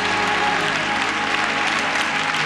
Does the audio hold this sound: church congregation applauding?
yes